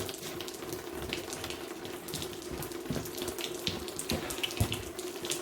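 A tap runs into a sink while hands are washed under it during a Ford GPW head gasket job, a close, steady water rush with irregular splashes and small knocks as hands move through the stream.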